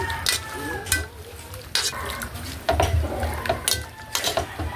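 A chicharon and simple salad being stirred and tossed with black pepper in a bowl, producing soft, irregular clinks and scrapes with occasional brief sharper knocks, close by with faint background voices.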